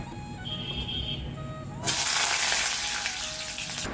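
Potatoes tipped into a hot pan, bursting into loud, bright sizzling frying that starts abruptly partway through and keeps hissing steadily after a quieter kitchen stretch.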